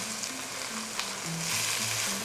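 Pork tenderloin searing in a hot Lodge cast-iron pan, a soft steady sizzle with a faint hum, short and moderately quiet, heard alone with no voices.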